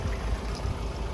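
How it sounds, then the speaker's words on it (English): Cars idle with engines running and air conditioning on, a steady low rumble with no talk over it. "all idling in their car with their air conditioner on"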